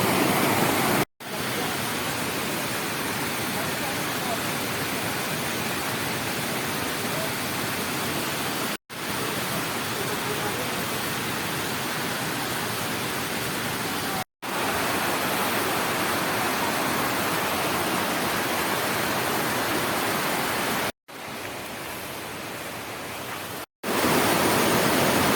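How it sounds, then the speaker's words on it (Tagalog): River water flows steadily near Gabaldon Falls, a dense continuous rushing roar, loud and close, broken only by a few brief cuts. "Babagtas po tayo ngayon ng ilog."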